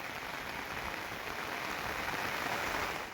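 Heavy rain pouring down in a village during traditional ploughing, a dense, steady hiss of drops striking the ground with no gaps.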